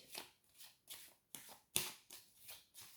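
Tarot de Marseille cards being shuffled for a reading, a run of soft riffling swishes in a quick regular rhythm, close up and quiet with no talking.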